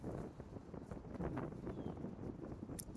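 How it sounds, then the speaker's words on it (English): Cold outdoor wind on a snowy day buffeting a nearby microphone, a steady low roaring rush with gusty swells that continues for the whole stretch, no voices heard. "The wind is legit"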